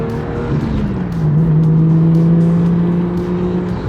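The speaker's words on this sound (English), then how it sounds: "It makes such good JZ noises." A Toyota JZX100 Chaser's JZ engine fitted with a Tomei exhaust revs continuously at close range, holding a deep, steady drone that climbs slightly and then sustains, loud throughout with no talking.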